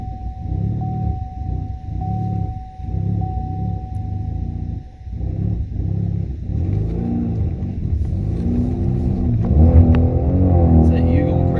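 A 4-cylinder turbo Camaro running on E85 with raised boost, its engine droning and rising in pitch as the throttle is fed, loud and close, with people talking over the revving.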